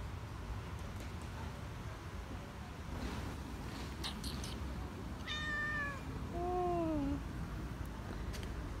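A cat meows twice in quick succession, the second call longer and falling, clear and fairly close over a faint outdoor wind background in autumn Istanbul.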